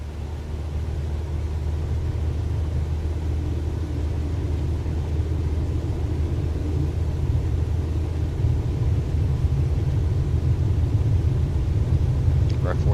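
An airplane takes off in Microsoft Flight Simulator, its engine producing a steady broad rumble and roar that builds slightly toward the end, with someone talking over it.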